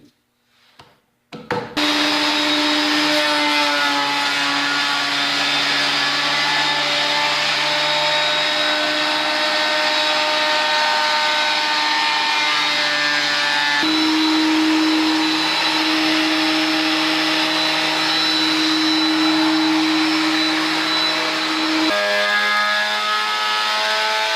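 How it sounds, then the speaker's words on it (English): Wood slats feed through a thickness planer as a workbench is built: a loud, sustained whining roar starts abruptly after a moment of quiet and runs on, with a couple of brief shifts in pitch as boards pass through. "it's ready to go through the planer"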